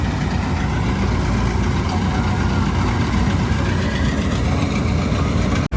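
A tractor engine runs during the paddy harvest, loud and close with a steady, unbroken low rumble and no voices.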